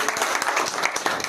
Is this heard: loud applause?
yes